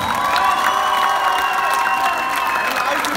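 Wedding guests at a dance battle cheer, whoop and clap together in a dense, steady crowd roar that fills the whole stretch, with voices shouting over it.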